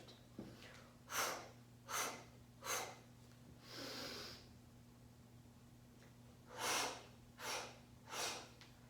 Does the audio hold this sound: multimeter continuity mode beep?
no